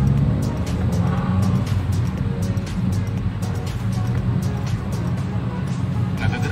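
A 1994 Toyota Corolla engine runs at a steady, close, low rumble while the driver shifts gears, with faint clicks and thumps over the hum and a voice speaking briefly.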